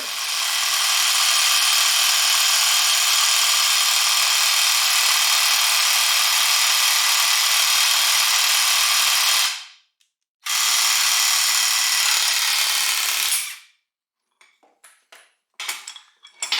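A press or wrench tool driving a part into a 1968 Pontiac GTO drivetrain makes a loud steady high whine for about nine seconds, cuts out briefly, resumes, then stops, followed by a few short clicks.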